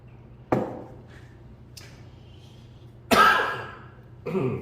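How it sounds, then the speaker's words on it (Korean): A few sharp coughs break an otherwise quiet room, one brief, then a longer harsh cough and a final shorter one. "헛기침이 나오고"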